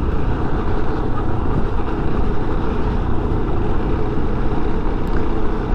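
Yamaha Ténéré 250 motorcycle engine on a test ride, a loud, steady, rough rumble with wind noise, continuous throughout without clear revving changes.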